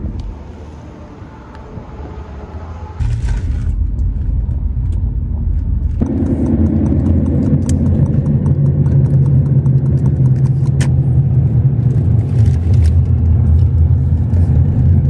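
Car engine and road noise drone steadily while driving to work early in the morning, a low continuous rumble that grows louder and fuller after a few seconds and stays even, with no talking.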